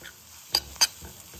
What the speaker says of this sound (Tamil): கடாயில் கொஞ்சம் எண்ணெயை ஊற்றி வெங்காயம் வதக்கிங்கோ.